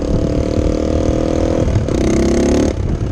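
A small 125cc enduro motorcycle engine revs high and buzzy past 11,000 rpm, holding a loud whining pitch, dipping briefly, then climbing again before easing off.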